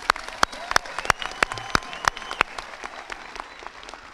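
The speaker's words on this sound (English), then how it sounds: "One more round of applause for our distinguished alumni." Applause at a high school graduation ceremony in a large hall, with distinct sharp claps from a few nearby hands standing out over a softer, more distant crowd clapping that fades out toward the end.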